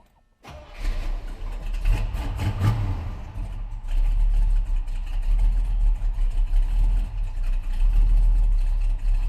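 A 1966 Chevrolet Impala wagon cranks on a cold start, then its engine settles into a loud, steady, slightly lopey idle, heard up close without talk.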